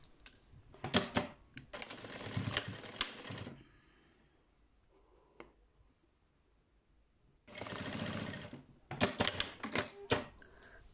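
Sewing machine stitching Velcro onto the short pants of a clown outfit for a Blythe doll, heard in two rapid, rattling bursts at the start and end with a quiet stretch between.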